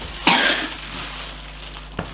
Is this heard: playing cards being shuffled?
no